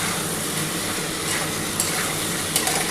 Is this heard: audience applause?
no